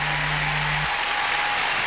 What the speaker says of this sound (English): Biggest reaction from the crowd all night.